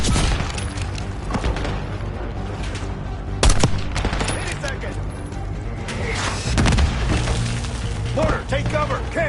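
Mortar fire and heavy gunfire in a Call of Duty: Black Ops 6 battle, with loud booming impacts around 3.5 and 6.7 seconds standing out over constant dense firing, and voices shouting over the din.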